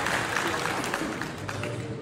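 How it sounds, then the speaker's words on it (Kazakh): Crowd applause for Bakytzhan at a Kazakh wedding feast, a dense, steady wash of many hands clapping close by, with faint voices mixed in. "Бақытжанға бір шапалақ соға жіберейік"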